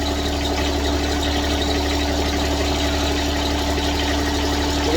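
A small Yanmar diesel engine on a riding mower runs at a steady idle, a constant low rumble with even mechanical clatter and no breaks, close to the listener.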